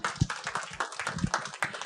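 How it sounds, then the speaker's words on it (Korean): A small audience at a bank-life book author's talk claps with scattered, uneven hand claps at moderate volume for a couple of seconds. "박수 좀 보내주시겠어요?"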